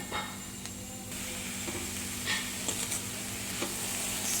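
Capsicum added to browned onion sautés in a pan, a steady low sizzle with occasional soft stirring scrapes, close and even throughout, no voices.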